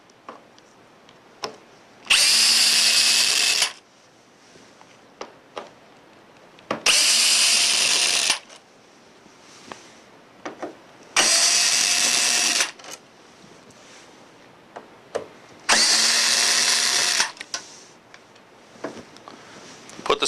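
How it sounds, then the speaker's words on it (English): A power drill backs out four screws from the front of a machine's control panel, four separate whirring bursts each lasting about a second and a half, evenly spaced with quiet gaps, close and without talk. "we'll begin by removing the 4 screws located on the front of the machine."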